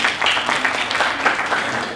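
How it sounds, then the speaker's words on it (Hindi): A crowd at a Diwali get-together claps steadily and loudly for a couple of seconds, a dense wash of hand claps with no pauses. "तो हम सभी लोग इनके लिए भी बढ़िया तालियां बजाने का काम कीजिए।"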